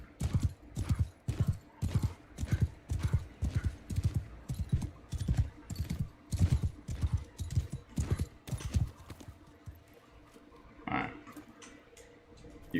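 Horse hooves in the Bannerlord 2 video game, a rapid, rhythmic clip-clop of galloping, close and steady, then fading near the end.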